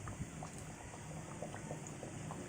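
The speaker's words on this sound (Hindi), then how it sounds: "हमारे ये पिनविल समोसा फ्राई हो रहे हैं।" Pinwheel chicken and potato samosas deep fry in oil, a soft continuous bubbling simmer with scattered small pops, faint and close, no one speaking.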